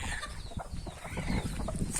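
Brooding hens in a ventilated coop clucking close by in short, irregular soft bursts, a few low calls overlapping over a couple of seconds.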